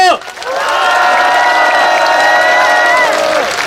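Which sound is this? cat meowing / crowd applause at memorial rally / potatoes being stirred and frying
crowd applause at memorial rally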